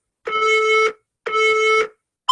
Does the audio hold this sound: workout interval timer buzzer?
yes